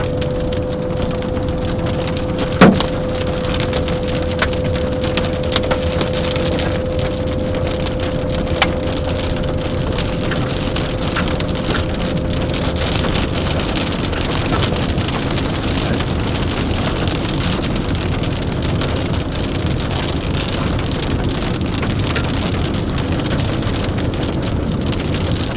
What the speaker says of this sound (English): Give me some better hail than that